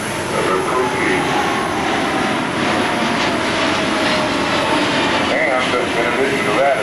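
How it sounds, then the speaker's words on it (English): Large military transport airplane flying past at an air show, a loud, dense engine roar filling the whole stretch with a slight swell near the end and someone talking beneath it. "But you see this, that's a big airplane"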